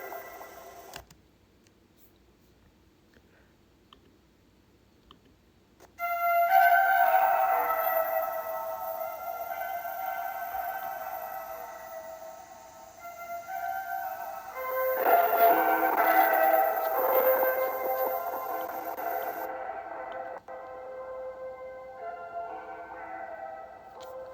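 Sustained synthesizer tones with layered tonal lines begin after a few quiet seconds, swelling louder midway and continuing to the end without speech.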